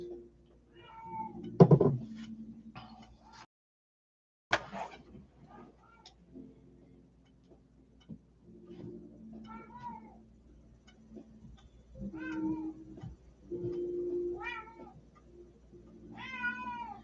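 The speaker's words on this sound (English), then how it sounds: "my stupid cat. What are you yelling about?" Pet cat meowing and yowling indoors, a series of loud, drawn-out cries spaced across the stretch with short quiet gaps and a few soft knocks, close to the microphone.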